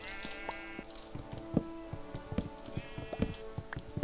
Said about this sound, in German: Die Schafe melden sich natürlich auch gleich wieder zu Wort.